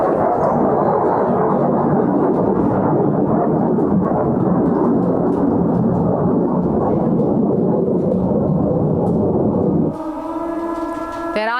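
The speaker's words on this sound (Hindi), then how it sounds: "ईरान के एयर स्पेस पर सुनाई दी है फाइटर जेट्स की आवाज" Jet aircraft roaring through the sky over Iran during Israeli airstrikes, a loud, steady broadband rumble that continues for about ten seconds before dropping away, leaving a fainter, tonal engine whine at the end.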